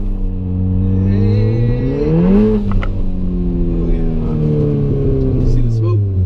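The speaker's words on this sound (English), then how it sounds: "See the smoke? Nice, we're doing burnouts." A Stage 3+ MK7 VW Golf R doing a burnout, engine revving up and holding high with a rising then falling pitch and a steady rumble, close and loud, while people talk over it.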